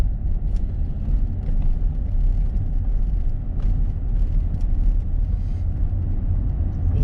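A car drifting down a hill toward a reservoir in the countryside, heard from inside as a loud, steady low rumble of engine and road noise with a few faint knocks.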